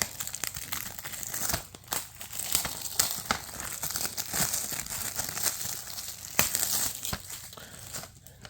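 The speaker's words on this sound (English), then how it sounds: "I got my trusty scissors and I'm cutting through the plastic wrapping" Close crinkling and tearing of plastic wrapping being cut with scissors, sharp snips and rustles, uneven bursts of crackle without any talking.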